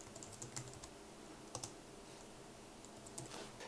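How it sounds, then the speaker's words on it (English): Typing on a computer keyboard, soft irregular clicks of keys in short bursts, faint and close, with no voices. "we can start typing here"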